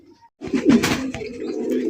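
Racing pigeons at a market coo and rustle in a steady cluster of soft calls after a brief quiet start, close and fairly loud, with no voices.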